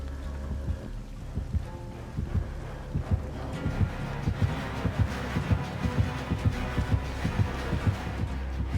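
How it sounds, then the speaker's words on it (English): The killer's terror-radius heartbeat in the Dead by Daylight video game pulses steadily as deep, throbbing thumps over a low droning hum, with no talk. "The terror radius is the heartbeat that survivors can hear as the killer moves closer towards them"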